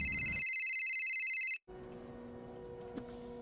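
A phone rings with a bright, repeating electronic tone that cuts off after about a second and a half, followed by a quieter room with a faint hum.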